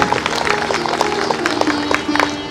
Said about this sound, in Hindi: एक बार जोरदार तालियों से आपको अभिनंदन करते